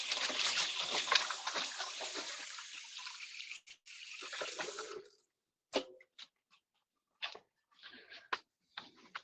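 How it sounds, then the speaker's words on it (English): Running tap water pours steadily as hands are washed at a kitchen sink during cooking, a continuous splashing flow for about five seconds, then the tap shuts off and only scattered short splashes and clatters follow. "All right, wash hands again."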